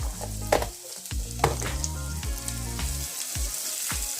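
Onions stirred in a hot pan, a steady sizzle of frying with periodic scraping strokes and low knocks of the utensil against the pan, close and alone under background music.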